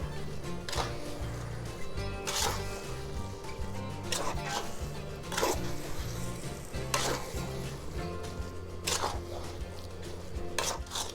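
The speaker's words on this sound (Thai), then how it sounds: "แล้วก็ผัดน้ำตาล ให้เข้ากับข้าวเหนียวก่อนค่ะ ข้าวเหนียวจะได้ไม่ติดก้นกระทะ" Sticky rice and sugar being stir-fried in a large wok, with a steady sizzle under repeated scraping strokes of a spatula against the pan, loud and close.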